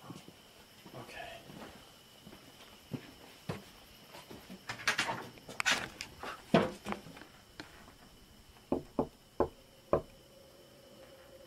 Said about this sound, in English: Let's go knock on the door